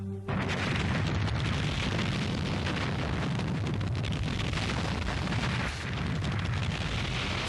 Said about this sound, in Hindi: जरा सी बात के लिए आपने पूरा ग्रह उड़ा दिया।